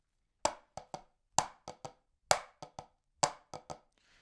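Exact unison strokes on a drum practice pad, crisp and close, played in four repeating groups of one accented tap followed by two lighter ones, with nothing else audible.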